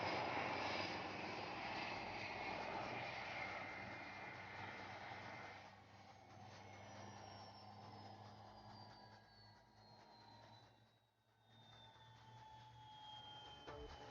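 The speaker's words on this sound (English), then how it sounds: "they fly the Dhruv helicopter to the limits of its operational flight envelope" A Dhruv helicopter of the Sarang display team flies at the Aero India 2021 air show. A loud, steady rotor and engine roar slowly falls in pitch as the aircraft passes, with no voices.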